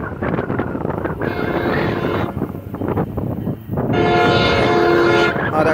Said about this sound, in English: New Jersey Transit eastbound.